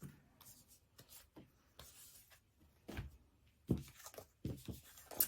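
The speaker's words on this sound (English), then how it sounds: "let me shuffle these cards" Tarot cards being shuffled by hand, giving soft papery rubbing and riffling with sharper slaps and flicks near the end, close and fairly quiet with no talk.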